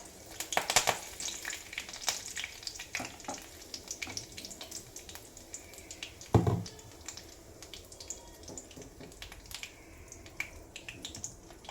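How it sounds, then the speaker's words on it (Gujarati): Mustard seeds and curry leaves crackle in hot tempering oil for a jowar-bajra handvo batter. The sizzle is close and sputtering, with sharp pops and snaps scattered across the whole stretch and one loud burst near the middle, with no talk. "થોડી રાય એડ કરવાની જ અહીંયા વઘાર મારો થઈ ગયો છે એટલે થોડો લીમડાની કડી પત્તી હું એડ કરી દઈશ"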